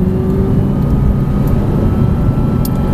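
Audi R8 engine on a racetrack, a loud continuous roar holding steady under throttle with a faint rising whine, no talk.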